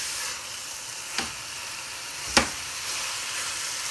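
Grated carrots frying in desi ghee for gajar ka halwa give a steady, even sizzle, broken twice by a sharp clink of a spoon against the pan.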